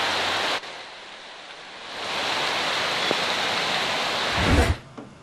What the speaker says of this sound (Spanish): Esta es la tormenta que está cayendo ahorita.